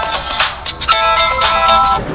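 An electronic phone ringtone plays a bright repeating melody, loud and close, with no one speaking over it.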